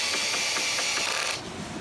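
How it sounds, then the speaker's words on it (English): Power drill driving screws into the boards of a raised garden bed frame, a steady high whir with faint pulsing, close and loud, easing off near the end. "one person can drill while the other person holds the board"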